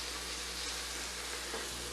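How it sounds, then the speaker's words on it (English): Vegetables saute in a pan for a green bean and tomato sauce dish, producing a dense, even sizzle that stays steady and fairly quiet throughout, with no talking. "we're going to give those a nice saute."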